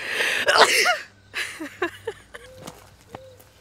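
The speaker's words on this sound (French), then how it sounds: "Je vais éternuer." A single sharp sneeze bursts out close by, followed by a few quiet breaths and faint footsteps outdoors.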